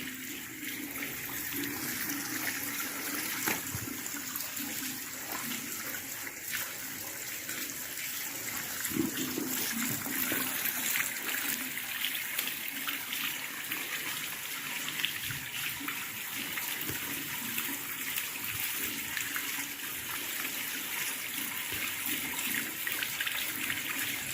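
Water pours steadily out of a pipe and runs down below, a continuous close splashing rush with no pauses and no voices.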